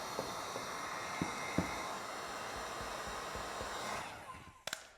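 A heat gun blows steady warm air over tint film on a car tail light, a constant soft airy hiss with a few faint clicks, trailing off near the end.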